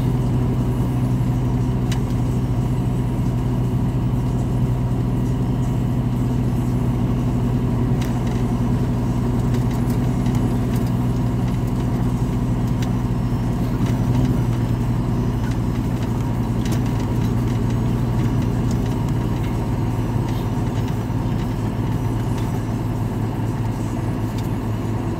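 Truck engine running at a truck stop yard as the truck pulls out, a steady, loud low diesel drone with mild shifts in pitch, sustained throughout with no talking.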